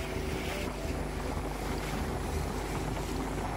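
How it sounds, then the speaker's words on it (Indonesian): Speedboat crossing choppy open sea between islands in overcast weather, a loud continuous engine drone mixed with rushing water, hull slaps and heavy wind buffeting the microphone. "Akhirnya saya bisa merasakan lagi naik speedboat menuju pulau-pulau terluar"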